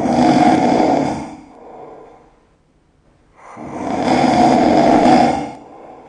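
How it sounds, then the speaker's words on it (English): Loud, rasping snores come in two long rumbling breaths separated by a quiet pause, close by and with no talking. "snoring shakes the whole house"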